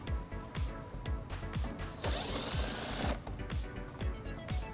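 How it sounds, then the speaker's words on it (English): A hand ratchet with an 8mm socket turns out a screw on a 2014 BMW X5 bumper in a fast, even run of close clicks. A brief smooth whirring spin comes midway, and no one speaks. "it exposes this screw that we'll remove using an 8mm socket"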